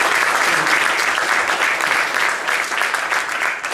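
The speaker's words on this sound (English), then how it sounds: "So a round of applause for them." Sustained applause from an audience at a summer program closing ceremony, dense steady clapping filling the whole stretch without pause.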